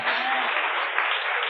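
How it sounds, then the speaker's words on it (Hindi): A conference audience claps again, a steady, fairly close wall of applause lasting about a second and a half without pause. "फिर से ताली बजाओ, बहुत अच्छा बजाते हैं"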